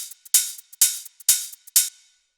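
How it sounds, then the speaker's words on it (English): An open hi-hat and shaker loop for deep minimal house plays alone: four bright, hissing open hats on the offbeats, each followed by short shaker ticks, in a steady, crisp pattern. "which in this case is this open hi-hat and the shaker, which sound like this."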